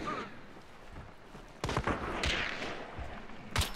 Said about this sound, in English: I'm shooting the barrel.